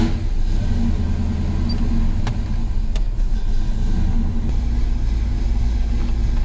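A 1970 El Camino pulls away with a steady low engine rumble and road noise that stays loud and close throughout, with a few faint clicks over the top.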